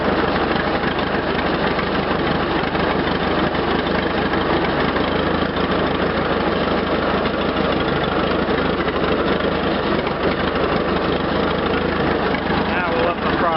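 A Farmall Regular tractor engine runs steadily in first gear at low throttle, a continuous loud, rough mechanical drone with a low throb that holds unbroken throughout.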